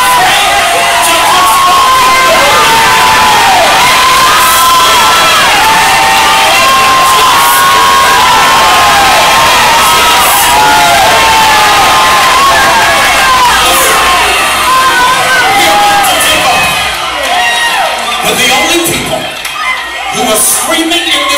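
A church congregation screams, whoops and cheers at a sermon, a loud continuous wall of crowd voices that holds for about twenty seconds with little letup.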